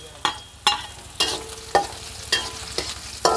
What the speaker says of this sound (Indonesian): ini minyaknya sudah panas, kita masukkan bawang merah dan bawang putih, lengkuas